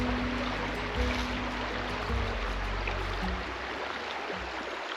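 Water rushing and splashing as an off-road teardrop trailer crosses a creek in the Aravaipa Wilderness, a continuous close wash of flowing water over a low vehicle rumble.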